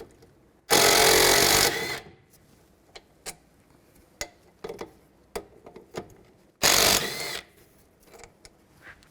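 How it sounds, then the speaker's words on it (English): Two long bursts of a power tool driving a 13mm socket remove brake caliper bolts on a 2003-07 Cadillac CTS. Between the bursts come scattered light metallic clicks and taps from tool handling. "I'm going to take these two caliper bolts out, this one right here and this one up top here."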